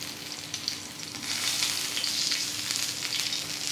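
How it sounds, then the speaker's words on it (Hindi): Kebabs fry in oil over a low flame, giving a soft, steady sizzle with crackling that grows slightly louder after the first second, with no talking. "फ्लेम को अभी हम लो कर देंगे और इन्हें अच्छी तरह से लो फ्लेम पर क्रिस्प होने देंगे।"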